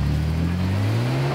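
A heavy 4x4 with a winch works the steep Pipeline Track near Lithgow, New South Wales, its engine loud and close, revving in a steady climbing drone throughout.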